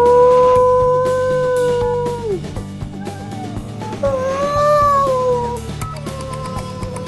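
A voice imitates whale song with long, drawn-out gliding moans that rise and fall, loud and close, broken by a short pause partway through, over a soft background hum from a space game.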